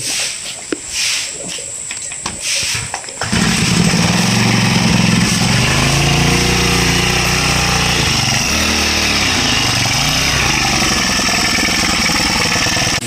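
A small engine-driven grass cutter starts up and runs loudly and steadily cutting grass near a village temple, its motor note wavering as the load changes.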